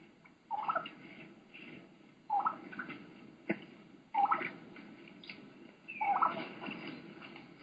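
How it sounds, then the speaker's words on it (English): A wild turkey hen gives four repeated calling sequences, each a rising whistled key run that breaks into raspy yelps, fairly close, with soft rustling of leaves in between. "Typically considered a key run, where they do a key, the young hen sounds, and then run right into a yelp."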